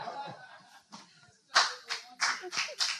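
An audience at a youth forum on internet governance in the DRC gives a few short bursts of scattered clapping, heard close and fairly quiet after some talk.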